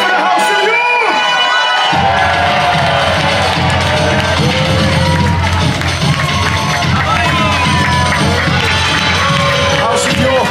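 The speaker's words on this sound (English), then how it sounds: "A cheer for the House of York!" A large outdoor crowd at a War of the Roses reenactment at Warwick Castle roars in cheer for the House of York, loud shouts, whoops and children's yells swelling after a brief spoken call and sustaining throughout.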